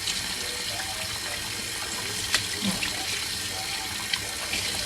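Running tap water streams steadily into a sink while squid is washed clean, a continuous close hiss with a few soft clinks and splashes from handling.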